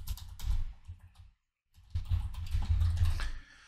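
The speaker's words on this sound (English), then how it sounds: "I'm going to come down and type in zone information" Close computer keyboard typing in quick clattering runs, pausing briefly in the middle before resuming, faint and without talk.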